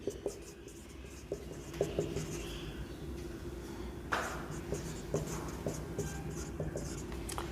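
Chalk or marker taps and strokes across a board during a science lesson, a series of short, fairly faint ticks and scratches over a quiet room, with no talk.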